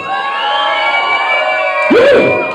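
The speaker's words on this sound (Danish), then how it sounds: "Jeg sagde klap særlig i huset!" A concert crowd at a gig in Amager roars with sustained cheering and shrill shouts, swelling louder with a burst of excited yelling near the end.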